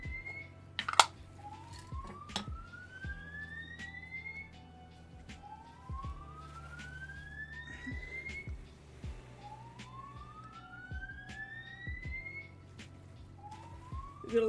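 An alarm sweeps upward in pitch again and again, each rising wail repeating every few seconds at a fairly quiet level, with faint clicks and tapping underneath.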